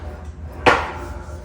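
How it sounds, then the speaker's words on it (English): A single sharp metallic strike of a planishing hammer shaping a sheet metal fender, close and distinct, with a brief ringing decay over a quiet background hum. "how fast you can put shape into metal with a planishing hammer or an English wheel"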